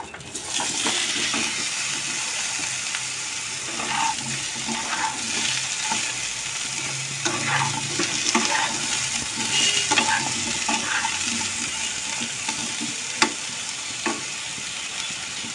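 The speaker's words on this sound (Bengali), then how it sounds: "এবার আমি বেগুনটা একটু ভেজে নেব।" Eggplant fries in a pan in a home kitchen with a constant close hiss and sizzle, broken by occasional soft stirring clicks.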